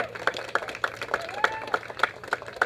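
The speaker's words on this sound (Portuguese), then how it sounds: "Cadê os aplausos aí?" A small crowd at a motocross trophy ceremony claps sparsely, with distinct individual claps in an uneven rhythm, fairly close, while faint voices carry underneath.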